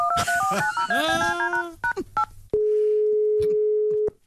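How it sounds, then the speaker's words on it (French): Telephone dialing tones in a comedy sketch: a quick run of short beeps, then one long, loud, steady tone that stops abruptly, with brief voice-like sounds mixed in early. "Ok Goglet, appelle le cours Sacha Guitry."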